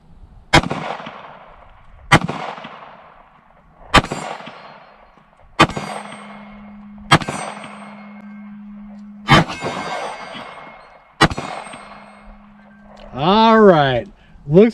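A Kimber Micro 9 9mm pistol fires about seven evenly spaced sharp shots, each followed by a ringing clang from a steel silhouette target, loud and near, ending in a warbling tone.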